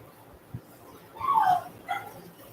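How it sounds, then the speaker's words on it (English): A three-month-old puppy shut in a cage gives a short yip, then a louder whimpering bark and a final softer yelp, close by in a quiet room. "That's my dog. He's still a puppy."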